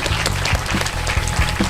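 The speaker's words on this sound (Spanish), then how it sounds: "Al público que nos regala un aplauso" An audience applauds after a session on international series and acting: close, dense clapping that holds steady throughout, with no voices over it.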